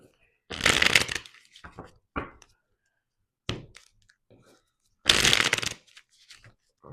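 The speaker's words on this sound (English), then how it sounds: "They're making me shuffle." A deck of tarot cards is shuffled in two loud, close riffling bursts, with lighter taps and card handling between them.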